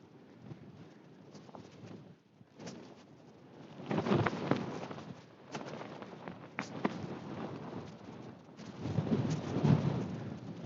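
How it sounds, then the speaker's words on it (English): Wind gusts buffet a Lake District wildcamp near the Red Screes summit, coming in rough, roaring surges of varying strength close to the microphone. "That wind has been a royal pain in the arse all night."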